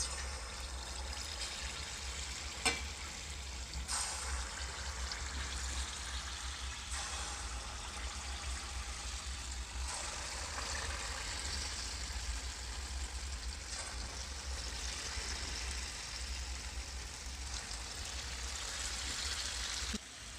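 Payatham palagaram balls frying in hot oil, a steady bubbling hiss that runs continuously and evenly throughout, with a couple of faint clicks near the start.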